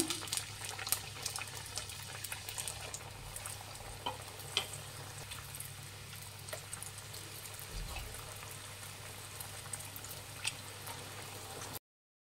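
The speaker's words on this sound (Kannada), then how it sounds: "ಇನ್ನು ಮಿಕ್ಕಿದ್ದು ಸೇಮ್ ಇದೇ ಥರನೇ ಎಣ್ಣೆಯಲ್ಲಿ ಡೀಪ್ ಫ್ರೈ ಮಾಡ್ಕೊಳ್ಳೋಣ" Egg puffs deep-fry in hot oil with a faint, even bubbling and crackling fizz and occasional small pops. A low steady hum runs beneath the frying, and no one speaks.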